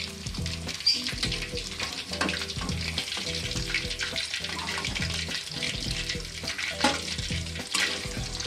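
Lahori-style fish fries in hot oil, a dense, busy crackling sizzle heard up close with faint clinks, no talk.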